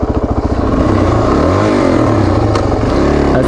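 A Suzuki DRZ400S motorcycle engine runs close and loud on a forest ride near Angelus Oaks, starting with a few pulsing throttle blips that give way to a steady rev which rises and falls.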